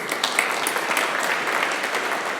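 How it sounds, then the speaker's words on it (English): Hackathon spectators at final demos give a round of applause, a moderately loud, even spread of many hands clapping together for a short stretch. "just a round of applause for Melinda Navi from Unchained"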